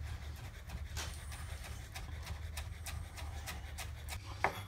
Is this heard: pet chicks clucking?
no